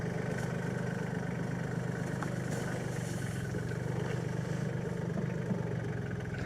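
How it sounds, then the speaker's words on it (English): Tractor engine working while moving soil to regrade ground beside a pond, a steady, fairly faint mechanical drone with a low pulsing rumble that runs continuously and unchanged. "The tractor makes light work of this."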